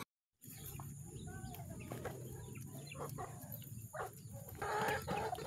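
Chickens being fed cluck and chatter close by in a steady mix of soft clucks and brief squawks, with livestock noise around them.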